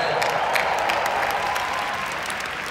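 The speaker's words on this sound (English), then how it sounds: "Let's clap for that." Steady applause from a crowd at a 2019 annual convention in the US, dense and continuous clapping with faint cheers, fading slightly toward the end.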